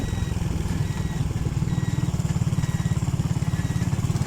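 A motorcycle engine runs steadily throughout while riding, a close, loud, rapid low throb with a pulsing rhythm and no talk.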